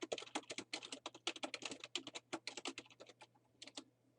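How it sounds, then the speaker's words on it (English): Rapid, fairly quiet typing on a computer keyboard while entering labels into an Excel spreadsheet, with dense irregular clicks that thin out near the end over a faint electrical hum. "Go to E3 and type total retail value and press tab"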